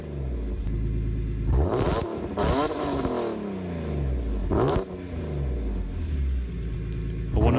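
A BMW E46 M3 with an S54 engine and aftermarket exhaust revs hard several times, its exhaust rising to a loud rasping roar and falling back to a deep rumbling idle between blips.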